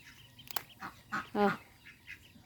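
A few short duck quacks sound close by, with some faint background noise between calls.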